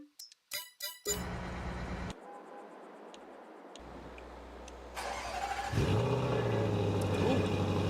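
The engine of a Krone BiG M 500 mower in Farming Simulator 22 starts with a few clicks, idles, then revs up into a loud, throaty drone that holds steady to the end.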